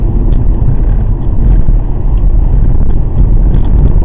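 BMW F-series car driving hard on a track, powering out of a corner with a loud, steady engine and road rumble throughout, continuous and close.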